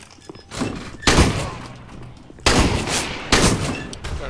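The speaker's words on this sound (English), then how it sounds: "Shitty shotgun." Shotgun blasts in the game CS:GO, about four loud, sharp booms at uneven intervals, each trailing off quickly, with no talk between them.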